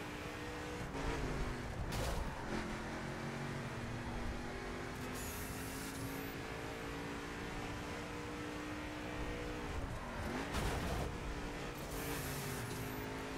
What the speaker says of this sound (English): I'm just braking normally, perfectly fine, and the thing just can't stop.